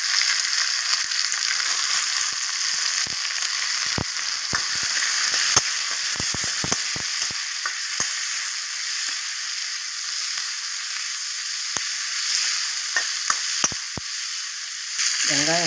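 Onions sizzling steadily in a hot pan, frying until glassy, a constant hiss broken by scattered pops and crackles.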